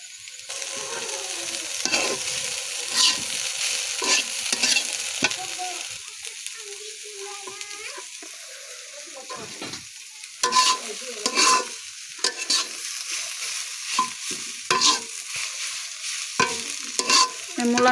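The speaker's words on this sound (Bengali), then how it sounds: "মূলা শাক ভাজি।" Radish greens frying in a pan with a constant close sizzle, broken by frequent scraping stir strokes that come in quick bursts, louder in the second half.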